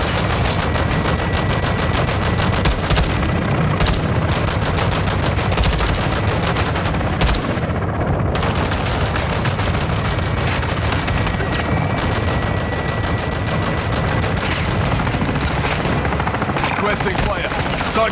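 Dense, loud gunfire in the game Call of Duty Modern Warfare 2, with sustained automatic bursts and heavy booming shots packed together, and no pause across the whole stretch.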